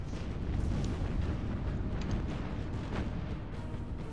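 Battleship main guns firing in the naval combat game Battlestations Pacific, heard as a dense, sustained low rumble of distant naval gunfire and explosions that blend into a continuous roar.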